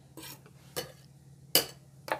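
Dill sauce of mascarpone, finely chopped dill and minced shallot stirred in a bowl: a few separate scraping, clinking strokes of a utensil against the dish, close and moderately quiet, over a faint steady hum.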